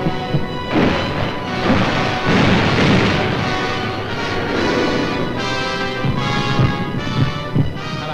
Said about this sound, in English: Hello, gunfire in the southeast.